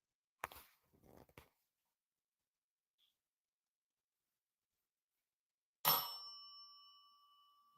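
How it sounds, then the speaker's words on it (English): A single bell rings out sharply and rings on with a long sustained tone, heard in an otherwise quiet room during a paranormal investigation, after a few brief knocks or footsteps earlier. "Can you tell us who just rang that bell?"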